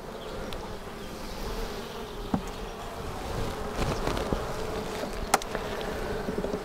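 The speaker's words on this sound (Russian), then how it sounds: "Вот тоже выходит новая, свежая пчела." Dense buzzing of many honey bees in a hive fills the air, a steady close hum with occasional louder individual bees passing near.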